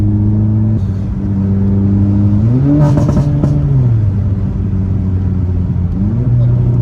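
A VW Polo GTI at Stage 3 tune, about 350 hp with a Golf turbo, idles with a loud, close, deep drone, then revs up sharply twice, each rise briefly climbing in pitch before falling back to idle.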